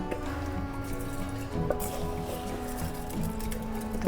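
Washed rice and its water pour into a pot for egg pulao, giving a steady wet, trickling rush with a soft continuous hum underneath.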